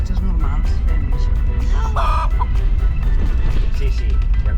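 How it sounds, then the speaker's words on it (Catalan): Chickens cluck and a rooster calls close by on a farm in Namibia near Etosha, overlapping fowl sounds throughout with people talking alongside. "Gallines"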